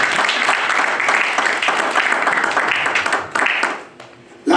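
A church congregation claps and cheers to acclaim God, sustained dense applause filling the hall for a few seconds before fading out.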